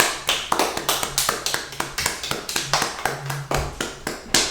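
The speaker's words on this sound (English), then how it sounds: "Round of applause, everybody!" Clapping for a guest in a studio: a steady, evenly spaced run of crisp, close hand claps, loud and unbroken, with no voices over them.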